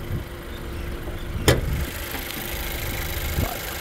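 A 2018 Honda CR-V VTi 2WD sits idling with a steady, low engine hum throughout, broken by one short sharp beep near the middle and a fainter click toward the end.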